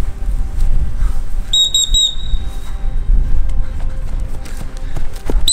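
During Turkish commando training, a few short, high whistle blasts sound in quick succession over the heavy thudding of running feet on the ground.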